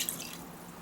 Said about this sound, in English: I'm going to put water on my pork meat for me to boil it.